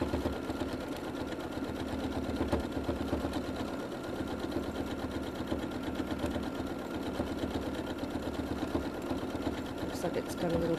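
A home sewing machine runs steadily for free-motion quilting, its needle chattering in a fast, even rhythm close by, with an older needle due for a change, and someone talking intermittently over the hum.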